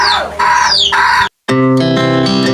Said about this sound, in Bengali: আর এই মুরগিগুলো এখন তুলতে হবে এখানে।